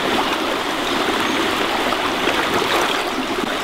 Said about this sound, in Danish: posen her fylder du egentlig bare med vand